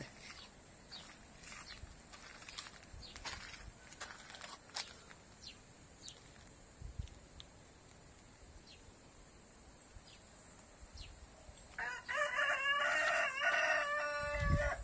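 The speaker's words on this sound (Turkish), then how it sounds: "Yukarıdaki horoz da ötüyor." A rooster crows in the distance over a quiet outdoor background with faint bird chirps, then a louder, closer crow rings out near the end.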